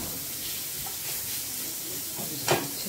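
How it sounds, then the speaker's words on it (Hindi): Onions and carrots fry in a pan with a soft, continuous sizzle and the odd stir or clatter, including one sharper knock near the end. "हम प्याज को भून लेंगे अच्छे से"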